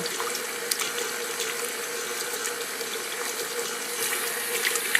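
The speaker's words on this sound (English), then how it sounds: "we poured the last bit of our water in" Cold water poured over homemade butter in a bowl to rinse out the buttermilk, a steady close trickle and splash with small drips, continuous and alone without talk.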